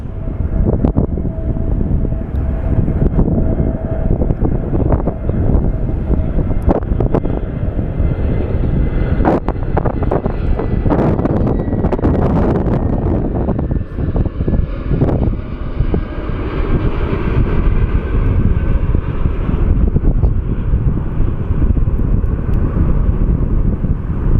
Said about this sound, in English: our flight from Palm Springs is inbound. It's an A321.